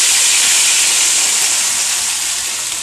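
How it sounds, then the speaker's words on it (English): Loud, steady sizzling of corn frying in hot bacon oil, a dense crackling hiss close by. "this is what you call frying the corn, southern fried corn."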